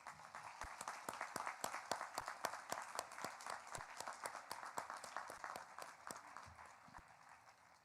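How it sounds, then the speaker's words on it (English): Graduation ceremony audience clapping for teachers at a 2021 high school graduation, a run of sharp distinct claps at a fairly quiet level that thins out toward the end. "can we all give a round of applause to thank our teachers for getting us through this challenging year?"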